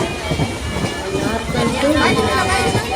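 Interior of a moving passenger train from Nagercoil, with a steady rumble and hiss of the carriage throughout and family members chattering nearby over the running noise.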